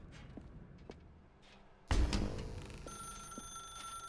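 A telephone rings in The Stanley Parable video game, a bright electronic trill that starts abruptly about halfway through and keeps ringing loud and close. A few soft taps come just before it begins.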